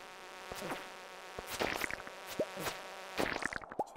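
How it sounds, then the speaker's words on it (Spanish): In the video game Stardew Valley, flies buzz close by in short, irregular bursts. Quick whining passes rise and fall over a quiet background. "Vamos a intentar esquivar las moscas."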